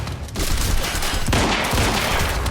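Rapid gunfire rattles in the Quantum Break video game, a dense, loud fusillade of overlapping shots that runs almost continuously after a brief quiet start.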